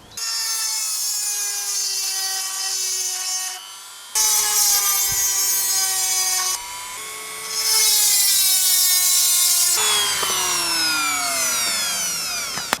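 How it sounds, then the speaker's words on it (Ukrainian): A Dremel rotary tool with a diamond-coated bit grinds a chainsaw chain, making a loud, high, tonal whine that breaks into short stretches as the bit moves between teeth, with pitch dipping under load. "Ось ми закінчили точити наш ланцюг."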